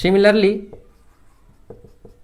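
A marker or chalk scratches across a board during a physics lecture on thin films. Brief light strokes come in small clusters after a voice stops, close but quiet.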